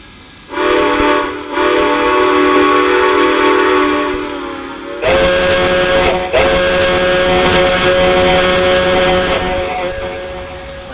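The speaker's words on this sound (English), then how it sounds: "Like the GS2s, they have Fast Freight Production whistles." A Fast Freight Production train whistle on a Southern Pacific GS class steam locomotive in a train simulator game sounds in two long, loud, sustained chords, the second blast starting right after the first ends, with no talking.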